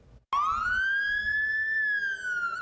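An emergency siren on an ambulance arriving at a Kansas City, Kansas nursing home, a single loud rising-and-falling wail that starts abruptly and sustains close by.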